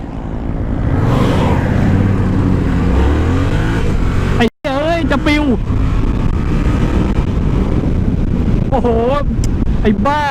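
A CP2-engine motorcycle pulls hard in first gear, its engine note climbing in loud, rising sweeps under heavy wind rush on an open road, with a brief dropout midway.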